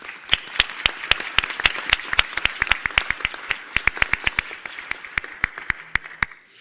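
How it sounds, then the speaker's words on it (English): Applause at a council meeting: a small group clapping near and steady, sharp distinct claps in a brisk irregular rhythm that taper off toward the end. "you guys shouldn't be clapping for me"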